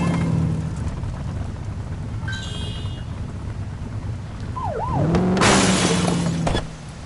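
A police car siren in The Precinct video game gives a short wailing sweep, then swells amid a loud burst of game noise before cutting off.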